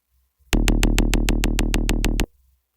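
A punchy electronic kick drum repeats in a fast, steady rhythm, about a dozen hits with a deep sub-bass underneath, loud and alone.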